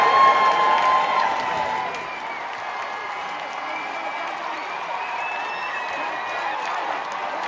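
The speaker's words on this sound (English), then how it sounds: "Give her a round of applause." A live crowd at a Britain's Got Talent semifinal in a large theatre applauds and cheers steadily, the broad wash of clapping and shouts filling the full stretch, loudest at the start and easing slightly as it carries on.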